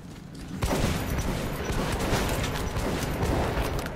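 Gunfire rings out in Metro 2033 Redux, starting abruptly and continuing as a loud, dense stretch of rapid shots and clatter that holds steady to the end.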